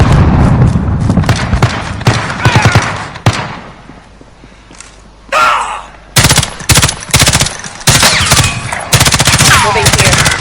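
Rapid gunfire from a video game battle, coming in loud dense bursts with a few isolated cracks and short quiet gaps between them, while brief voice callouts cut in.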